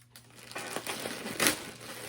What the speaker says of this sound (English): And we'll just rip it open again because we know the scissors isn't working on this very well